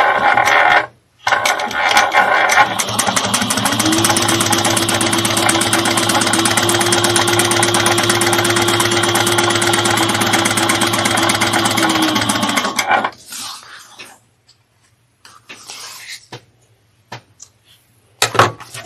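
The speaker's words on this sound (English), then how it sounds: "we're just sewing it down at 1/8 of an inch." A sewing machine runs in one long continuous burst, stitching down a seam on a fabric day trip bag at close range, its steady whirring drone stopping abruptly near the end and followed by a few soft handling clicks.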